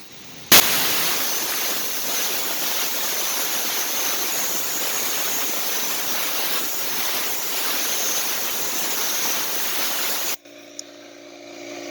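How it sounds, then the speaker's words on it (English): Air hose nozzle blowing on a car AC condenser outdoors on a windy day, a loud steady rushing hiss that starts abruptly after a click, holds constant for about ten seconds, then stops. "Now I'm gonna hit it with the air hose, air nozzle."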